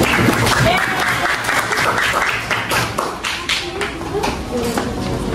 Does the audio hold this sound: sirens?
no